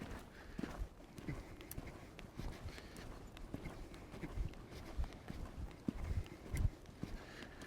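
Hooves clip-clop in a steady cantering rhythm as a horse lopes on the left lead during lead-change schooling, close and fairly loud, the beats slightly uneven as the horse settles.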